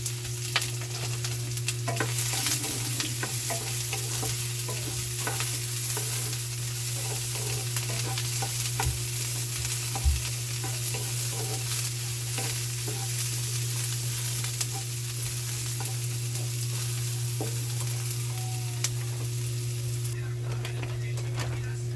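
Garlic, onion and ginger sautéing in oil in a pan, a steady close sizzle with occasional stirring scrapes, over a constant low hum for the whole stretch.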